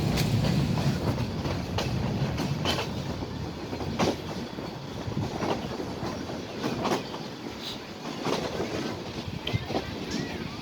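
A train runs on rails in Bangladesh, heard from inside the carriage: a steady rumbling roar with rhythmic clicks and clacks over the track joints and some wind buffeting, with faint talk underneath.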